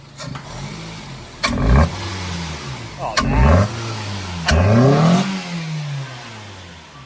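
A car engine revs up in three sharp bursts, each rising then falling back, with a man's brief remark partway through.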